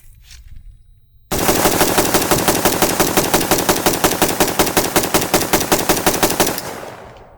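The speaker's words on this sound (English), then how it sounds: "Got just a normal magazine and still shooting steel case ammo." A fully automatic AK rifle with a normal magazine and muzzle brake firing steel case 7.62 ammunition: after a second of quiet, a loud, sustained burst of rapid evenly spaced shots rattles on for about five seconds, then stops.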